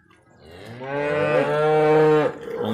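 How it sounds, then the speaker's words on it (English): A beef cow or replacement heifer lets out one long, loud, close moo that swells and holds for about two seconds before breaking off, with the start of another call following at the end. "All the cows in this group, including replacement heifers."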